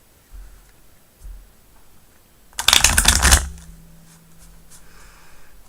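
Tarot cards being shuffled in one loud riffling burst of about a second, with quiet tapping and handling before and after it.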